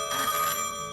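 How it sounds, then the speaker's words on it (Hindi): A telephone rings in a Bollywood comedy film scene near the Raniganj coal mines, one short steady electronic bell tone filling the moment with no talk over it. "ये लीजिए, साहब का फोन भी आ गया।"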